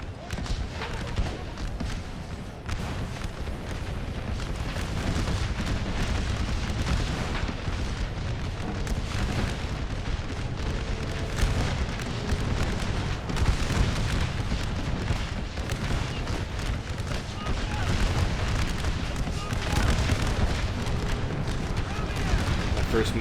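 Artillery booms and dense musket fire roar continuously through a Napoleon Total War American Civil War mod battle at Fishers Hill, loud and sustained with overlapping blasts.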